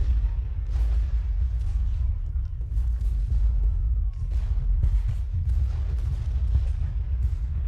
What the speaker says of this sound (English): This is that famous artillery barrage prior to Pickett's charge.